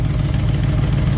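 A car engine idles steadily up close, a low, even rumble with a fine regular pulse and no talk over it.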